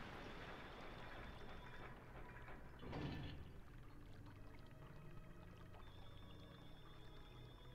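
Water level drops in Zelda: Twilight Princess, heard as a faint, continuous rushing and pouring wash with a brief swell partway through, low in volume throughout.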